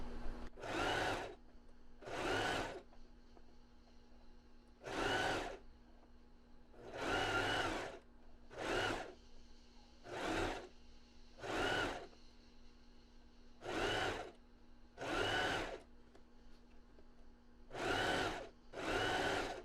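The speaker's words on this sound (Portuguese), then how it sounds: "E agora eu vou costurar assim, achatando a costura até o final, até o outro lado." A domestic sewing machine stitches a flattened seam on a pair of panties, running in about a dozen short bursts with brief pauses between them, close and steady, with a constant low hum underneath.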